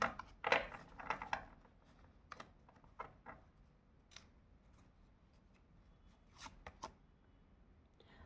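Tarot cards being shuffled and drawn, with a burst of crisp papery flicks and riffles near the start, then scattered soft slides and taps, quiet and close with no talk.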